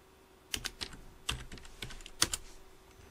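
Computer keyboard typing in short bursts of sharp key clicks, a few quick clusters of taps spread over about three seconds, fairly close and moderately quiet with no talk.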